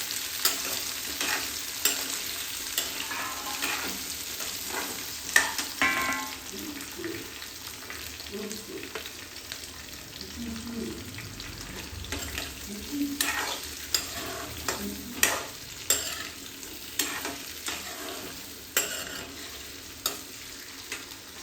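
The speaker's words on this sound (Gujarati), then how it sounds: "અને ધીમા તાપે એને આપણે સાંતળી લઈશું." Sweet potato pieces sauté in a pan over low heat, giving a steady soft sizzle broken by repeated scraping stirs, with occasional talk over the cooking.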